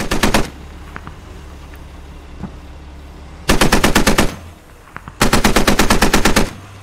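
Video game machine gun fire in three sharp, rapid bursts, loud and close, separated by quieter ambient gaps with a faint single shot between.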